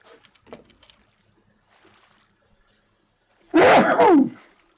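A single loud, close sneeze bursts out after a stretch of near silence and faint background sounds, lasting under a second.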